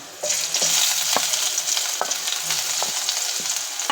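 Chopped onion fries in a pan, a bright continuous sizzle starting abruptly and holding steady, with periodic utensil scrapes and taps, close and fairly loud.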